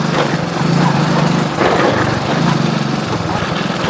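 An old motorbike engine runs steadily up close, its buzzing drone continuous and loud throughout, with slight fluctuations in pitch and no clear speech.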